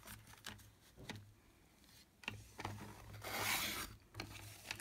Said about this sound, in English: I'm just going to trim around the edges of this one.